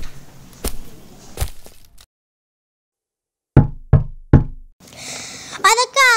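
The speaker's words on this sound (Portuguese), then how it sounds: "Quando lá cheguei, bati à porta e chamei." Three crisp knocks on the door of a brick house, loud and close, with a spoken voice before and after the rapping.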